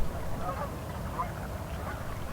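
Ducks and geese quack at Weed Lake in the early morning. The calls are fairly faint and scattered over a steady outdoor background, heard together with a bit of speech.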